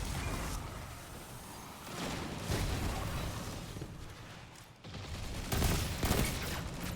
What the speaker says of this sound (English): Shots right there, but we still get the kill.